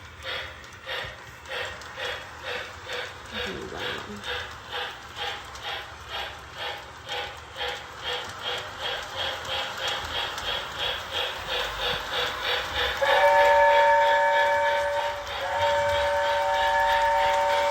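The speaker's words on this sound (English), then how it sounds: "Now we're going to go ahead and get the train moving" A Lionel O gauge Hogwarts Express model train chuffs in a steady, quickening rhythm, then a long steam-style whistle sounds loudly near the end over the running noise.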